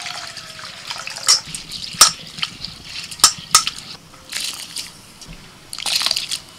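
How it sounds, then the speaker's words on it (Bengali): Red lentils rinsed by hand in a bowl of water, with wet swishing and splashing in short bursts and a few sharp clinks against the bowl, close and clear with no talk. "মুসুর ডালটা 3-4 বার জল পাল্টে ধুয়ে সিদ্ধ করতে দিচ্ছি"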